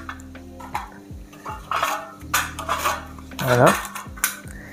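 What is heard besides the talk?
handling aluminium ramekins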